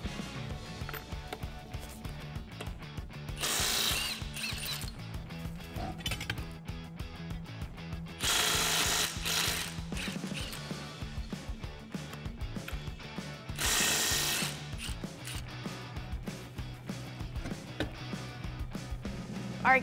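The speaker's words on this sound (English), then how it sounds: "we're going to go ahead and remove both front wheels first as our first step." An impact wrench and ratchet work on the front wheels of a 2018-2019 Ford Mustang GT, with three loud buzzing bursts between stretches of clicking ratchet pawl and clanking tool noise close by.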